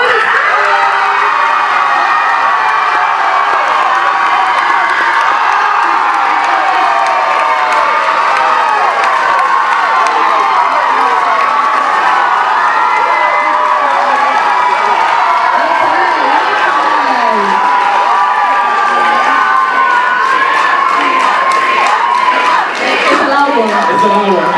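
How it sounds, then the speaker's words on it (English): A large crowd at a university Strictly dance competition cheers, shouts and whoops loudly and continuously, with high excited voices rising over a dense roar that holds steady throughout. "So can we please have a round of applause for Mia from Winners?"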